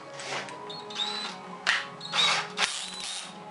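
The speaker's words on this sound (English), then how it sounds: "we will chuck this in the drill." A power drill whirs in short bursts with mechanical clicks and rattles between them, fairly close and steady in level.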